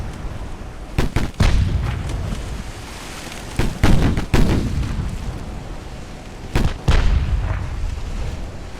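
Naval artillery fire in the warship game Ultimate Admiral Dreadnoughts: heavy booming salvos break out in clusters, two near the start, a pair mid-way and another late, over a constant low rumble, with no voices.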